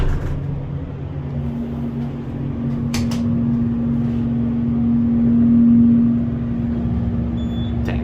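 A loud Otis hydraulic elevator runs with a steady low mechanical hum and drone that swells midway, with a couple of faint clicks and no speech.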